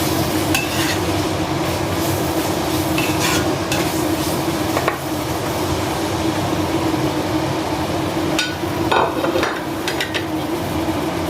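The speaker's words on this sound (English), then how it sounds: "I'll give it a quick stir." Fried rice with spring onions, paprika and carrots stirred in a hot pan, a steady loud sizzle under repeated scraping and clattering of the utensil against the metal, close up.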